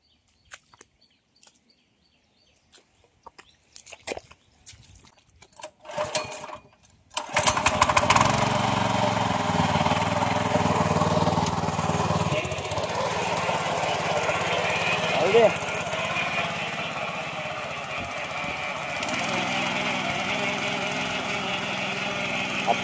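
A field machine's engine starts after some scattered knocks and handling sounds, then runs loudly and steadily as it works fertilized soil before rice planting.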